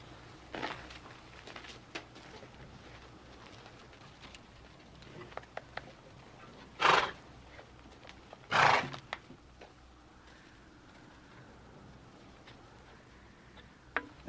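A horse needing reshoeing whinnies loudly twice in quick succession, with softer hoof clops and faint background noise around it.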